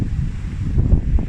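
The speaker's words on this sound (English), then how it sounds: "Very, very windy." Strong wind buffets the microphone on an exposed Kinder Scout hilltop in the Peak District, a loud continuous low roar with gusts that swell near the end, with no other sound above it.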